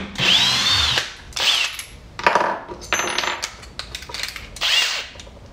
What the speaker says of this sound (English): Let's just go ahead and remove it real quick and then we'll drill some holes.